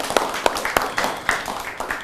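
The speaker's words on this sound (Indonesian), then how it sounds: "tepuk tangan untuk Ki Rianto" A group claps to honour a named guest at an Indonesian independence anniversary gathering in Malang, a steady run of claps with a light murmur of voices underneath.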